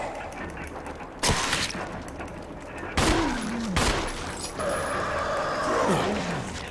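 Pistol shots in the Resident Evil video game, three or four sharp, loud reports spaced about a second apart, with mechanical clicks and other game sounds between them and someone talking.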